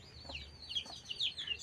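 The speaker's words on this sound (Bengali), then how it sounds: "দেখো মুরগির বাচ্চাগুলি চিউচু করতেছে।" Chicken chicks chirp in a yard beside a busy road, several high, sweeping peeps coming in quick irregular bursts, close by, over low steady background rumble.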